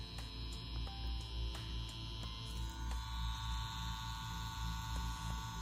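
A Mummy wireless tattoo machine runs with a steady, faint electric hum and buzz, punctuated by a few light clicks.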